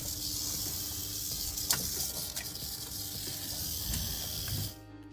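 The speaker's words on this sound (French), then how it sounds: "Ces serpents à sonnette n'ont pas l'air si contents de leur soudain avis d'expulsion." A dry, buzzing rattle of rattlesnakes found under floorboards hisses steadily at close range, continuous for several seconds before stopping.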